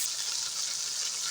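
Tomato paste masala cooking in a pan for a moong dal mangochi recipe, a soft steady sizzle and bubbling hiss with no talk over it.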